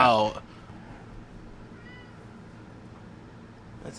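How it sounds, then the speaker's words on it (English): A house cat lets out a short, clear meow at the start and a brief trace near the end. Quiet room tone sits between the two calls, and people are talking on a comedy podcast. "That was a good cat meow."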